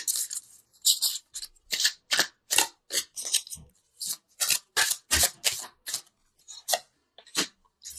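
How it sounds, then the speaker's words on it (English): Angel cards are shuffled and drawn in a quick series of crisp, papery riffles and snaps, each burst short and separated by brief silences, heard close up with no talking. "I wanted to pull an angel card just to bring it all together"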